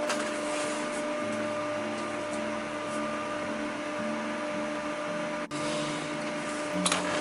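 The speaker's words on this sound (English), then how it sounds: "Okay, now let's sew the other side." A sewing machine stitches an EDC organizer in a steady, continuous mechanical hum with a rhythmic motor whir, running close and unbroken for most of the stretch with one brief pause.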